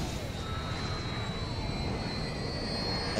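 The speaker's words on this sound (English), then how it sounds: "Engine's gone! Plane's coming down!" In GTA 5, a plane with a shot-out engine roars steadily as it comes down. The engine drone is loud and continuous, with a thin high whine running through it and no speech.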